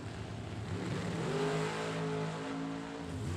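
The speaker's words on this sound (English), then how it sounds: "Ripping the throttle down the stripe" Drag racing motorcycles scream down the strip at full throttle, a loud, close engine roar whose pitch climbs steadily as they accelerate away.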